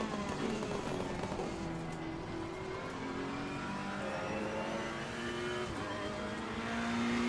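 A damaged race car lapping Bathurst in Assetto Corsa Competizione screams steadily through the gears, engine pitch rising and falling continuously at moderate volume, with other cars faintly present.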